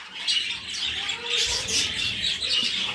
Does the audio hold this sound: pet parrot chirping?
yes